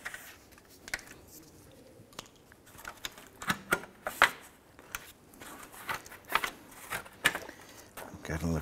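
Plastic trim clips popping loose as the grille bezel of a 2009-2015 Honda Pilot is pried up, several sharp close snaps and clicks at irregular intervals with faint handling noise between them.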